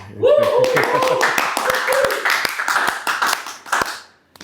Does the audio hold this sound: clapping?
yes